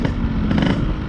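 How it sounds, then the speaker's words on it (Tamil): Yamaha RX100 two-stroke motorcycle in stock form, its engine beat loud and close as a steady, continuous note throughout, with no talking over it. "பீட்டை மட்டும் நீங்கள் அப்படியே கொஞ்சம் ரசிங்களேன், செம்மையாக இருக்கு"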